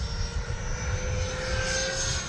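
A Freewing F-22 90mm electric ducted-fan RC jet whines steadily overhead, a continuous airy roar with a thin tonal hum holding level through the pass.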